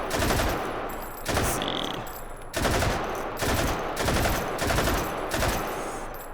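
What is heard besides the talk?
RPD machine gun firing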